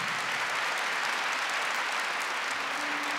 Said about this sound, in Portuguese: Vamos aplaudir essa palavra, gente?